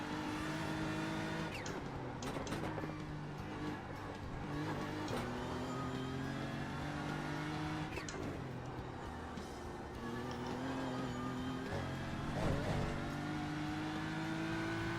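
Race cars in a video game race, a close engine whine climbing and dropping through repeated gear shifts, with brief sharper bursts over a steady motor drone.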